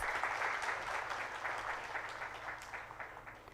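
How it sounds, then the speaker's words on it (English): An audience at a formal technical session gives a sustained round of applause, many hands clapping at a moderate distance, steady and slightly fading toward the end. "kindly give him a big round of applause"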